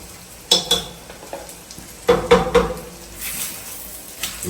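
Chopped ginger tipped into hot oil in a frying pan while noodles are being cooked, giving a steady sizzle with a few scraping stirs and clinks of a utensil against the pan, close up and without voices.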